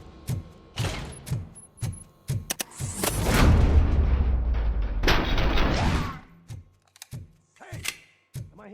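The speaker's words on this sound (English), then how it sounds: "Am I hearing gunshots?" Gunshots in the video game RoboCop: Rogue City: sharp, separate cracks early and late, with a louder, longer roaring burst of fire in the middle, and mechanical clicks between.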